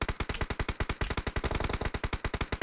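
Rapid automatic gunfire in a battle royale video game, a dense, loud, evenly spaced burst of shots running without pause, close up with no talk over it.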